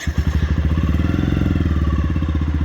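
A Neco NC50 50cc geared motorbike fires up at once, settling into a steady, rapid engine putter with a deep exhaust note, close and loud with no one talking.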